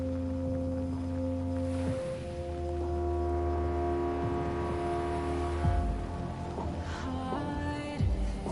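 Steady engine drone from a motorcycle in the game Death Stranding 2, holding a sustained tone with a few pitch shifts, backed by music.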